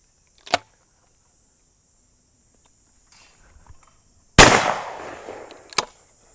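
Browning shotgun fired at clay targets: a sharp report near the start, then a much louder blast with a long decaying tail and a quick third crack, all outdoors without talk.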